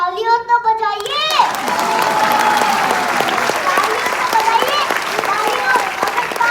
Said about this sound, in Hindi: थोड़ा तालियों तो बजाइए